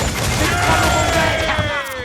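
Naval cannon fire from sailing ships in Assassin's Creed IV Black Flag, a dense rumbling barrage with whistling, descending tones of shots in flight, loud and continuous over a busy battle soundscape.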